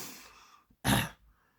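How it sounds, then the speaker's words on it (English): A single harsh, hacking cough from a man with a lingering two-month cough, preceded by a soft breathy rasp and followed by a brief faint exhale, close and fairly quiet. "this cough would finally subside, but I still feel like I'm hacking up a damn lung"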